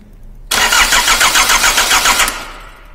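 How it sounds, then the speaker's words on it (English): A car's starter motor whirs and cranks the engine in a loud, rapid, rhythmic burst lasting nearly two seconds, starting abruptly after a quiet moment and fading out as the key is released. "it comes out, cranks the engine, and then go back to where it was when the ignition key is released"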